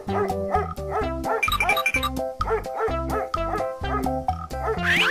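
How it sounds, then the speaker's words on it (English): A cartoon dog barks in a string of bright, tuneful yaps, loud and close, over a busy musical backing with no talking. "dog,"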